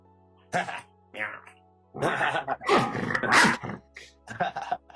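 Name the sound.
man imitating a dog barking and growling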